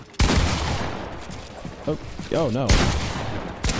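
Dense, loud bursts of gunfire in Fortnite, with a sharp blast at the start and another near the end, mixed with a brief spoken exclamation over the chaotic shooting.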